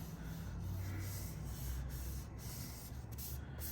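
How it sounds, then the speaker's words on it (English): Sanding sealer is rubbed onto wood by hand, giving a soft, continuous, faint rubbing and brushing sound with no voices. "So I'm just applying the sanding sealer by hand"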